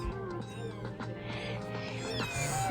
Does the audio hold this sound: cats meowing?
yes